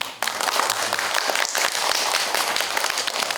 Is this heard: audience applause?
yes